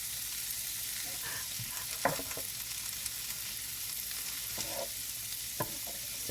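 Pastrami and cabbage fry in a pan with a steady, close hiss of sizzling, broken by a few soft clinks and scrapes of stirring, and no voices.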